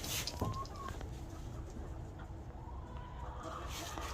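Chickens in a coop on a mild January day cluck faintly, with a few brief calls rising over a steady background hum.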